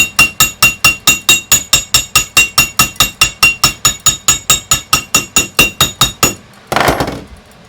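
A hammer strikes a brand-new gold bar to knock off spots, about thirty rapid, evenly spaced metallic taps, close and loud, then a brief scraping rustle at the end.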